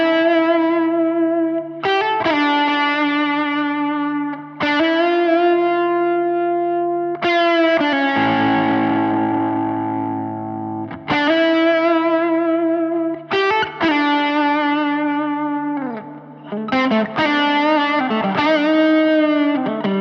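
Electric guitar played through an MXR Shinjuku Drive overdrive pedal at lower gain, ringing chords and sustained notes in separate phrases with a mildly distorted, slightly reverberant tone.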